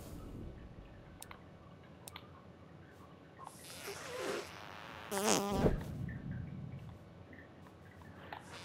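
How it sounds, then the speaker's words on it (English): Cartoonish fart in South Park: The Stick of Truth, a loud wet, sputtering blast lasting about a second in the middle, surrounded by faint game ambience and a few small clicks. "What is the sound of one anus farting?"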